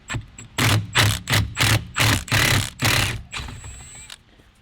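A power tool backs out a Loctited steering wheel bolt on a Nissan 350z in a series of about eight harsh, rattling bursts, close and loud, ending with a thin high whine.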